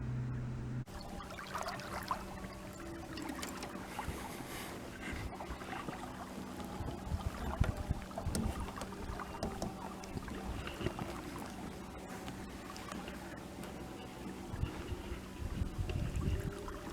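A 14-foot aluminum boat trolling for kokanee on Bullards Bar lake, its steady low motor drone and water wash running continuously, with wind buffeting the microphone throughout and no talking.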